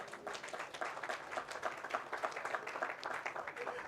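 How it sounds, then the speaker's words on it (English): Audience applause at an investment forum, a soft, steady patter of clapping hands heard from a distance, fairly faint and uniform, with a faint voice murmuring underneath. "we should give Rada a big round of applause"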